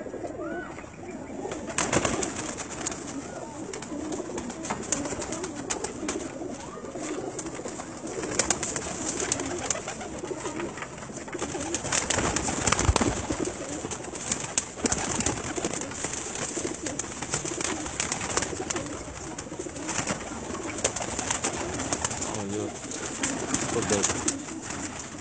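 Domestic pigeons coo steadily on a rooftop in Gujranwala, a flock's overlapping throaty calls rising and falling throughout, close and continuous, with faint background noise.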